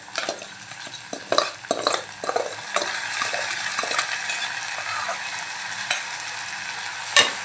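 Moong dal stirred and sautéed with onion in a pan, a soft sizzle under several scraping stirs and metal utensil clinks, steadier frying hiss in the latter half.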